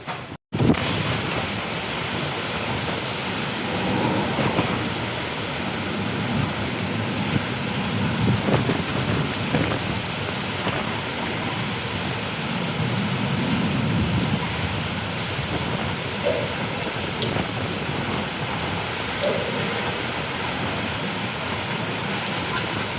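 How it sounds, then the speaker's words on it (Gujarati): Steady unseasonal rain falls without a break, a dense, even wash of noise that holds at the same level throughout, with no clear thunder standing out. "માવઠું હો ભાઈ"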